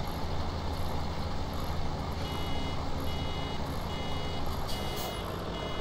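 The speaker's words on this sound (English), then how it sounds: "That beeping sound means it's coming to the end." Steady warning beeps from farm machinery in a farming video game, repeating at regular intervals over a constant loud engine drone.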